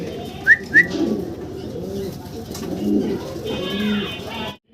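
Two male German Beauty Homer pigeons coo in low, rolling phrases close by, with a pair of short chirps early on and a person speaking in the background.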